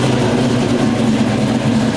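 A 1969 Camaro or army jeep engine running loud and steady, a rough, low rumble that holds throughout without a clear cranking start.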